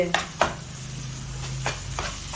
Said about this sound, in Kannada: ಪುಡಿಗಳನ್ನೆಲ್ಲ ಹಾಕ್ಕೊಂಡು ಚೆನ್ನಾಗಿ ಫ್ರೈ ಮಾಡ್ಕೊಳ್ತಾ ಇದ್ದೀನಿ.